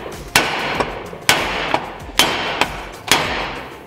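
Four heavy hammer blows on a Toyota steel steering knuckle, evenly spaced, each a sharp loud clang with a short ringing tail and a lighter tap between.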